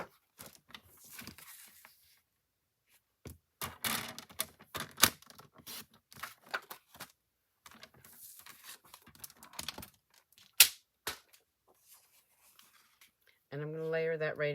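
A trimmer or blade cuts a small piece of cardstock for a handmade card, giving sharp clicks, slides and crisp paper scrapes in scattered bursts with pauses, close and clear, and a voice comes in at the end.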